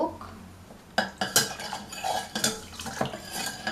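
A spoon stirs baso soup broth in a metal pot, giving a few sharp clinks and scrapes against the pot in an irregular rhythm, close and clear with no talking.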